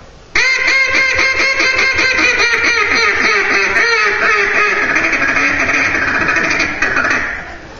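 Several people blowing duck calls at once in a duck blind, a loud, dense, chaotic chorus of overlapping quacks sustained for about seven seconds before fading slightly.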